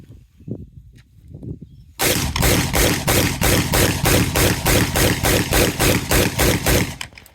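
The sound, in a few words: gunfire, rounds shot at a vehicle pillar in a ballistics demo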